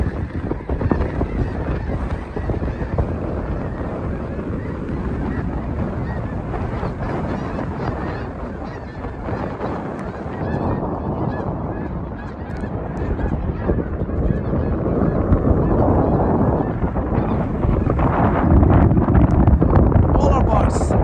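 A large flock of birds honks and calls across a wetland, a dense goose-like clamor of many overlapping voices with wind buffeting the microphone, swelling louder near the end.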